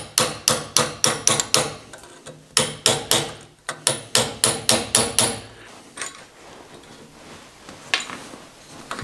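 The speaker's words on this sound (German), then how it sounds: "Nachdem der Nietkopf flach geschliffen ist, meißle ich das Blechgehäuse des Feldwiderstandes weg." Hammer blows drive a chisel through the sheet metal housing of a field resistor from an electronic voltage regulator, sharp metallic strikes in two quick bursts of about eight to ten each, close and loud, then sparse quieter taps.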